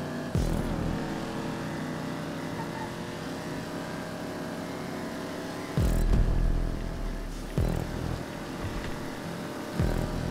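An old-generation car engine without a turbo revs hard and steady, with its pitch dropping sharply at a few gear changes and no turbo hiss.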